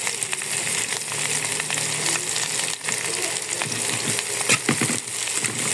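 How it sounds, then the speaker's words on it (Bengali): Onions frying in hot oil with cardamom in a kadai sizzle loudly and steadily, with a dense crackling hiss and a few stirring scrapes throughout. "পেঁয়াজটা দিয়ে একবারে বাদামি কালার হয়ে নেব, ভালো মতো একটু ভেজে নেব।"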